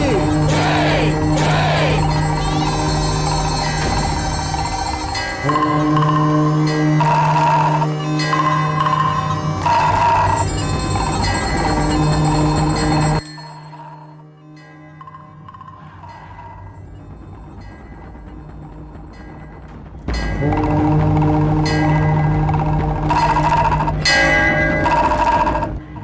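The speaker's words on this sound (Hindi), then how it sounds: "घंटी और नगाड़ा बजाओ।" Ritual bell and nagada drum played at a Hindu household worship, loud sustained ringing and beating that stops abruptly for several seconds, then resumes.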